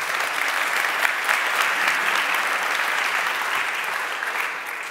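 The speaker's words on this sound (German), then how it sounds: "Ein Applaus für Dominik." Steady audience applause at a re:publica 2024 conference panel about podcasting, dense even clapping that holds for several seconds before easing slightly at the end.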